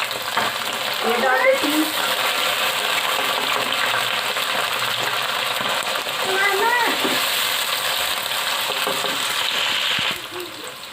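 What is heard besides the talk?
beef and onions frying in a pan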